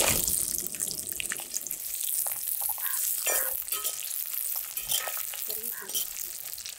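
Small onions with dried chillies sizzling and frying in a pan, a steady bright crackle with stirring scrapes, close and continuous with no talking.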